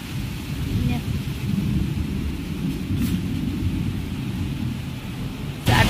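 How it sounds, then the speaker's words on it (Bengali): Monsoon rain in a village with thunder, a continuous low rumbling wash of rainfall and distant thunder that swells briefly at the very end. "দেখো বৃষ্টি হচ্ছে, দেখো বাজ পড়ছে"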